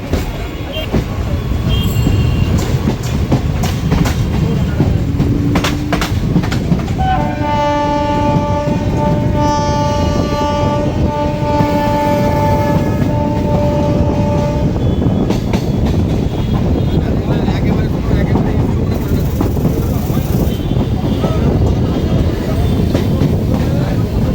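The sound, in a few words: Ranaghat–Gede local train running, Indian Railways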